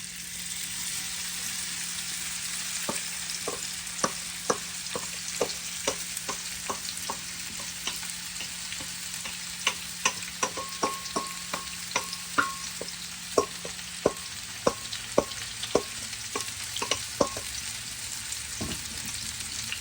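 Onion and cinnamon bark frying in hot oil for onion sugar sambal, a steady close sizzle broken by repeated sharp clicks of a utensil stirring and scraping the pan, with no talking.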